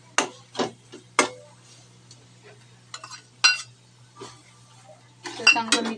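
A spoon scrapes and clinks against a metal pot while ground coconut, onion and garlic masala is stirred with fresh homemade yogurt for dum aloo gravy, giving sparse, sharp taps separated by quiet pauses.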